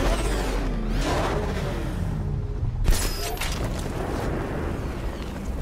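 Explosion in a Batman video game, a dense rumbling roar with a sharper burst of debris partway through, continuing as a noisy wash under background game sound.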